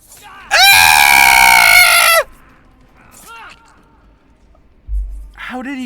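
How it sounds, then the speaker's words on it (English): A person lets out a loud, sustained scream of nearly two seconds, harsh and piercing, followed by quieter scattered vocal sounds and a low thump. "I'm sorry if I just screamed in your ears"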